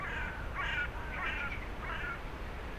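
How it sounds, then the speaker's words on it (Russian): Crows cawing: four or five harsh, evenly spaced caws from a bird at a moderate distance, over a steady outdoor background hum with no voices. "Вороны,"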